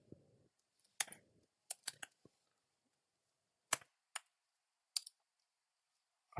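Sparse keystrokes on a computer keyboard are typed into a Rails console, a handful of crisp, separate clicks in a quiet room with pauses between them.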